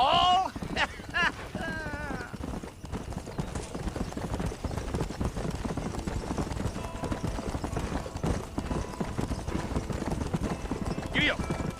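Horse hooves clip-clop at a steady trot in Red Dead Redemption, a continuous close rhythm under brief bits of talk and a short vocal sound near the start.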